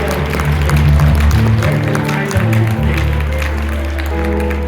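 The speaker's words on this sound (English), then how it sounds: "round of applause for Saul Dreier." A room full of people claps steadily, the applause loud and sustained, with a low hum and some voices underneath.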